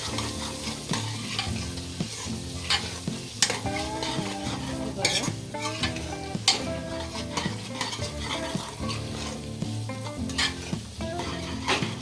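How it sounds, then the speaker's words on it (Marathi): Ground masala spices roasting in oil on full flame for a rustic vajri curry, a continuous sizzle under busy stirring and scraping of a spoon against the pan, close up with no talking. "आता हे मसाले सगळे आपण टाकून घेऊया तेलामध्ये हे पहा मसाले सगळे भाजूया"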